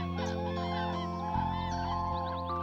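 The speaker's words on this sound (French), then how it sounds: "Ce sont des oiseaux migrateurs. Ils partent pour le sud." Cartoon migratory birds heading south honk in short, repeated calls over a steady layer of animated music, busy and fairly loud throughout.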